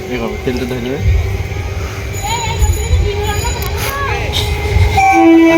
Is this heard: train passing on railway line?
yes